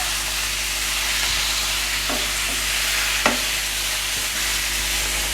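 Chicken pieces sautéing in a hot pan for a roast: a steady loud sizzle with a few scraping stirs of a spoon, close by and without talk.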